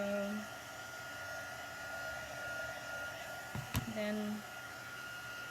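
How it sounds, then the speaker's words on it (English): A heat gun drying Valentine's Day farmhouse decor blows with a steady whining hum throughout, while a voice talks softly over it and there is a brief clatter near the end. "I'm going to heat it or dry it with my heat gun."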